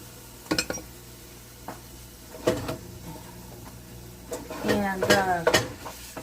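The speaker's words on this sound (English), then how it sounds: "Okay, I'm going to go ahead and put the meat in there." Lean ground beef goes into a pan with a little oil, giving sharp clanks and scrapes of a utensil against the pan and bursts of sizzling, with a brief spoken word near the start.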